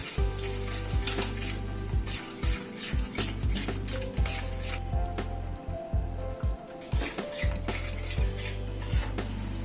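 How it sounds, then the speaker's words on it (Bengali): Yogurt is stirred in a pan over a low gas flame, with repeated metallic scraping and clinking of a spoon against the pan over a soft sizzle, in irregular close-up strokes. "দিয়ে দইটা দিয়ে সমানে একটু নাড়তে হবে"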